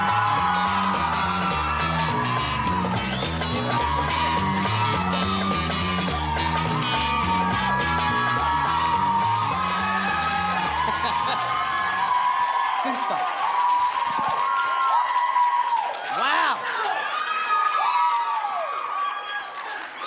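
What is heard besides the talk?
audience applause and cheering for a comedian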